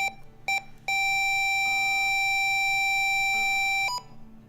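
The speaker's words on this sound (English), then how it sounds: "When you hear 1 short beep and see the indicator lights flash green" A few short electronic beeps from a TD-300 medical inhaler device, then one long steady tone lasting about three seconds before a final brief beep; clear, close and alone.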